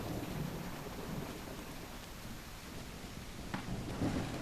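Steady rain hisses over muddy ground in the horror game Call of the Elder Gods, with low rolling thunder rumbling beneath and a heavier crack near the end.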